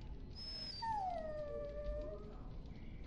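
A dog in Dragon Age: Origins whimpers and then lets out a long, falling, wavering howl over faint background ambience, the whine rising high before the howl sinks and fades.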